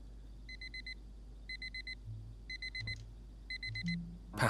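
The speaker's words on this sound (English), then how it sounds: "Every day that alarm goes off. I should change the tone on it." An alarm clock in the game Fragments of Him beeps in four clusters of rapid electronic pips, evenly spaced and moderately loud over a low hum, with a soft thud near the end.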